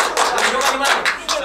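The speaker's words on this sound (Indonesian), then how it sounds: "Tepuk tangan lah." A studio audience at a talk show claps to welcome a guest, a dense, steady wash of applause that stays loud throughout, with a voice mixed in.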